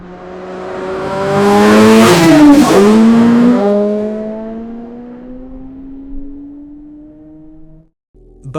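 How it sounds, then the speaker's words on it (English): An AI-generated, high-energy car sound effect: a loud engine roar swells and peaks with a whooshing drive-by sweep, then its pitch falls and it fades into a lingering tone before cutting off. "I want a high-energy car sound, the kind of thing you'd use in an action sequence or a gaming montage"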